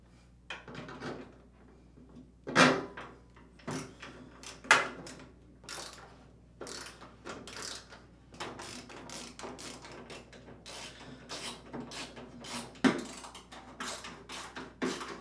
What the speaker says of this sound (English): while holding the panel in place, reinstall the 5 screws across the top